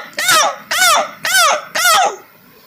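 A man imitates a crow: four harsh, raspy caws in an even rhythm, each loud and close. A short silence follows the last one.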